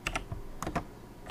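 Fingers typing a prompt on a computer keyboard, a few quick bursts of clicking keystrokes with short pauses between, fairly close and alone.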